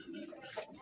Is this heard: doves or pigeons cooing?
yes